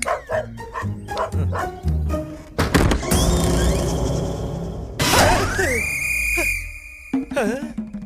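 A doorbell that plays a dog barking sound, in a Telugu comedy film scene: loud, close barks and yelps repeat in bursts, mixed with thuds and bright sustained electronic tones.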